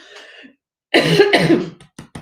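A close, loud burst of harsh coughs from a woman with an oncoming cold, two or three in quick succession, followed by a couple of short softer hacks.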